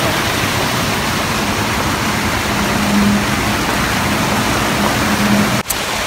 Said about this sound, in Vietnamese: Trời ơi cái thác đẹp nha.